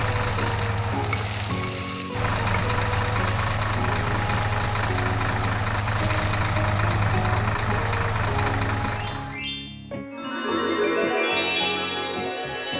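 Tractor engine in the video game Monkey Farm 3D, a steady low idling drone with sizzling, crackling texture and a game music overlay, ending in a burst of bright rising tones.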